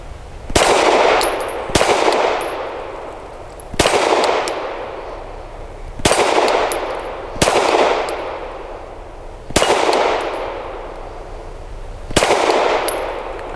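Six sharp pistol shots from a Canik SFx Rival S firing PMC Bronze ammunition, spaced roughly two seconds apart, each a loud close crack followed by a ringing decay, with no talk between them.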